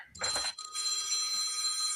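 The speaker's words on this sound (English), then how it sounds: "No, that sounds more like an 80s or 90s ringtone." An electronic phone ringtone in an 80s or 90s style trills loudly, a bright warbling burst followed by a sustained high ringing tone, with no talking.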